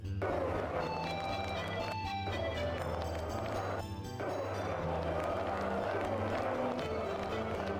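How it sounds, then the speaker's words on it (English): Ambient crowd murmur in the video game Gates of Skeldal, a steady busy background of many voices and bustle with tonal game music layered over it, continuous throughout. "that's a crowd's noise, I think"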